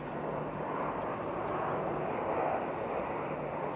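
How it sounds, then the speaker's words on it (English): An ATR turboprop airliner touching down at Raleigh Durham airport, a steady broad engine and airframe roar held at a moderate distance throughout, with no talk over it. "So the ATR touching down."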